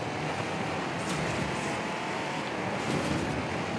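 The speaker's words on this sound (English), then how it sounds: "the engine's not liking it now" Rally car engine at the Baja rally straining and losing power, a continuous broadband roar with wind noise over the microphone, steady and loud throughout with no pauses.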